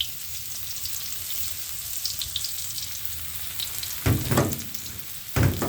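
Garlic sizzling in hot oil in a pan for stir-fried noodles, just after tofu was fried: a steady close frying hiss with two louder bursts of crackling sizzle near the end, no talk.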